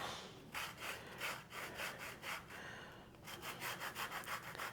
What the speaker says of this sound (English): Gonna grate some orange zest in there.